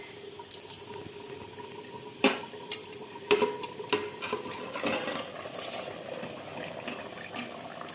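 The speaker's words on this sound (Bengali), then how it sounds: "এখানে মাংসের আলু ভাজা হচ্ছে আর এর ভিতরে মাংস হচ্ছে" Meat and potatoes cook in a pot, giving a soft steady simmer broken by sharp clinks and scrapes of a utensil stirring against the metal, with a few louder knocks early on and no talking.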